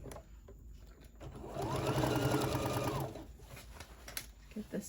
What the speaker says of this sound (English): We're going to sew up one side, then we're going to work on the other side.